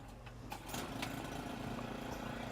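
A Hud-Son Oscar 328 bandsaw mill runs steadily while cutting an ash log, its engine a continuous drone heard at moderate distance with a few faint knocks early on.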